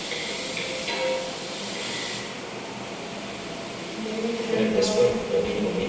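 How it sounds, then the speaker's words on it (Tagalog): Onions sauté in a pan until soft, for pork giniling with carrots and Baguio pechay, giving a steady close sizzling hiss that swells slightly toward the end. "Tinutuloy ko naman pagluto dito hanggang sa lumambot na ng luto yung sibuyas"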